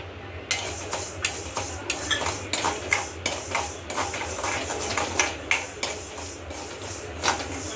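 Fenugreek seeds are roasted in a pan, with a dozen or so sharp scraping and clinking strokes of a spoon against the metal repeating steadily over a faint sizzle, close and clear with no voices.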